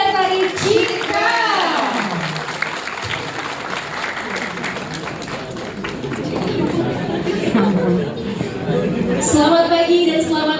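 An audience claps steadily and loudly for the Sanggar Tari Citra dance group at an anniversary celebration, with crowd chatter and a speaker's voice rising and falling over the continuous applause.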